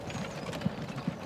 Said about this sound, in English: The horse neighs.